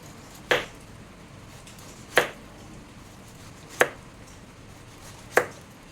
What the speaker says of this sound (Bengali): এখন গোল গোল করে কেটে নেব।